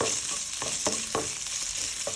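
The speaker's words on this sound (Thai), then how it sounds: "เอาหมูสามชั้นต้มสุกลงมาคั่วกับ กระทะให้หอมหอมสักหน่อยนะคะ" Boiled pork belly sizzles as it is stir-fried in a pan for pink fried rice noodles. A steady hiss runs throughout, broken by a few sharp scrapes of the spatula against the pan. There is no talking.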